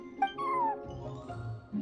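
A cat meows in the video game Genshin Impact, a short rising then falling mew near the start over a soft game soundscape, with faint low background sound afterward.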